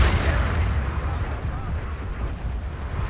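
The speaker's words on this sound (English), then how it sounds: "Oh, grenade!" A grenade explodes in the video game Battlefield 2, a loud, rumbling low blast that lingers as a heavy roar through the whole stretch amid multiplayer combat noise.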